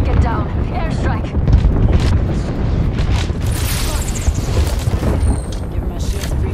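Bangalore's airstrike in Apex Legends pounds the ground with a rolling string of heavy explosions, loud and close, a steady wash of booms over several seconds, with a player's voice cutting in over the blasts.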